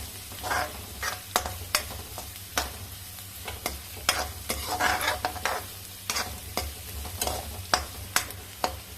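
Onions and whole coriander seeds roast in a pan for chole samosa, with a soft continuous sizzle and repeated sharp scraping strokes of a spoon stirring through them at an uneven rhythm, up close.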